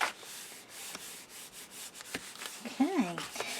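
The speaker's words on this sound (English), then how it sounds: "just need to move that over a bit and burnish that down." Paper being burnished down on a small handmade paper bureau box, soft intermittent rubbing strokes close by, with a brief murmured voice near the end.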